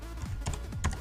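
Typing on a computer keyboard while writing HTML headings, a quick close run of light key clicks in a brief burst.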